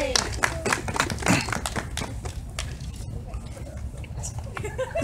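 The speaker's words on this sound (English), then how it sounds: "So give him a round of applause." Steady applause and clapping from a crowd at a campus rally, lively at first and tapering slightly, with voices mixed in.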